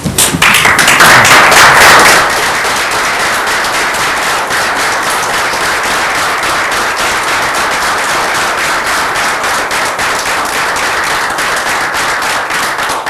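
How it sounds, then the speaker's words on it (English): A council meeting audience stands and applauds a returning police officer, steady dense clapping that swells loudly at the start and then holds a sustained, even roar for the rest of the clip, with no talking over it. "please stand and give him a round of applause"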